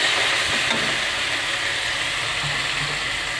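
A spice masala of dry red chilli powder and ground roasted coriander and cumin is stirred and fried in a pan for bhola fish curry, giving a loud, steady, close sizzle with no talk.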